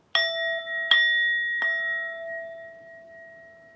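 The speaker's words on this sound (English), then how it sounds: "We got a fucking bell." Three clear bell strikes in a slow, uneven rhythm, each a bright ding that rings out and decays into a long, sustained tone, close and alone in a quiet room.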